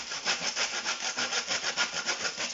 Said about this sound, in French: ou tu prends une scie à bois, regardez-le, hop, c'est parti